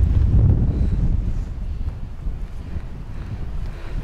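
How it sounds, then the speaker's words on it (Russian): Strong wind blowing along the Black Sea shore at Katsiveli in Crimea, a steady low rumbling roar buffeting the microphone, loudest at the start and then easing slightly, with no voices. "Ой, какое ветрище сильное."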